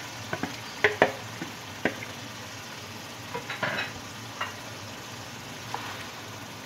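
Okra frying in a pan with onion and tomato masala, stirred so a spoon clinks and scrapes now and then over a soft, steady sizzle.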